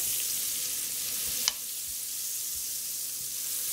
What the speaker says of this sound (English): we're gonna just add about a stick of butter in here and melt this